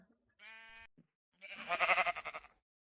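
Minecraft sheep bleating in the video game: a short, clear nasal bleat followed by a longer, louder wavering bleat, both close and alone with no talk.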